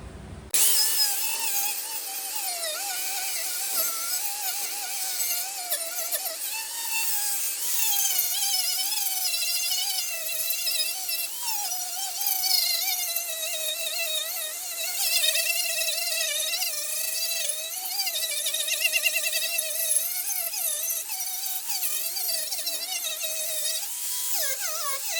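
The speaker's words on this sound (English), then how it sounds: "I'm just going to wire buff all around the welded areas" A wire brush on a power tool buffs the welded areas of an aluminium tinny's boat transom, a continuous high buzzing whine with a wavering pitch as the brush is pressed and moved, close and loud throughout.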